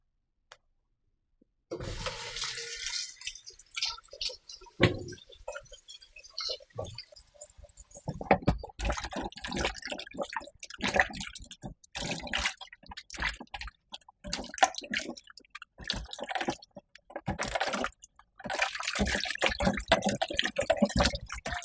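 Green bananas being washed under running water with baking soda in a kitchen, with steady splashing, dripping and rubbing sounds that continue in bursts close by.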